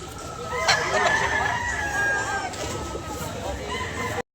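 A rooster crows loudly and at length close by at a fowl market in Carbon, Cebu, over a noisy background with clucking fowl and some chatter.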